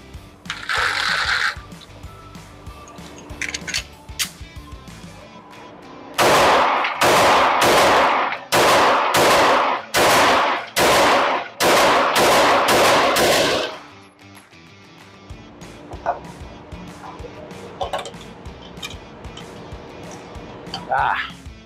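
A Smith & Wesson Shield Plus Performance Center pistol with custom slide work fires a rapid string of about ten loud, sharp shots, close by. Quieter movement and background noise come before and after the string.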